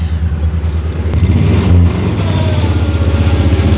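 An old abandoned barn-find car engine idles with a rough, throbbing pulse, then revs up loud and close as it begins to move, the uneven chug continuing throughout.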